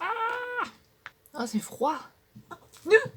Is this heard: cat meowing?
yes